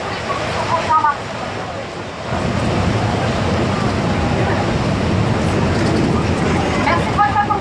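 A Paris metro train in motion, a loud steady rumble and rush of wheels on track that swells after the first couple of seconds and holds, with brief voices early on.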